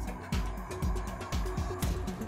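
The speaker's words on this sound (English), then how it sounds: "I hear a bird." Repeated bird calls in the video game Tamarin, a series of short gobbling, fowl-like bursts at a steady rhythm, loud and close with no talk over them.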